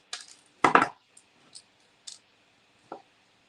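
Jewelry wire for a beaded pendant is trimmed with cutters: one loud, crisp snip stands out, with a few faint ticks and clicks of handling scattered around it in an otherwise quiet setting.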